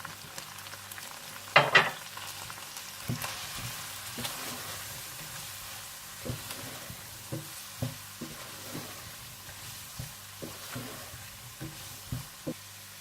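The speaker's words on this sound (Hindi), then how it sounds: "और जब चिकन अच्छा सा भुन जाए तो आप इसमें मैदा डालकर 1 से 2 मिनट के लिए भून लें।" Chicken fries in a pan with flour (maida) stirred in, giving a quiet, steady sizzle broken by regular scraping stirs and a few louder clanks near the start, with no voices.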